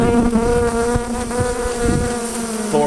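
A swarm of honey bees buzzing loudly and close during a hive removal, a dense, continuous drone of many wings with shifting pitch and occasional faint knocks underneath.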